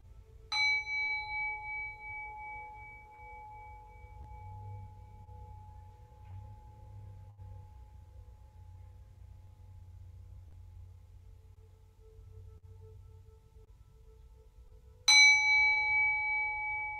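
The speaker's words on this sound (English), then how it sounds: "So I will chime." A meditation chime is struck twice, its clear, bright ring decaying slowly over many seconds in a quiet room with a low hum beneath. The second strike comes near the end.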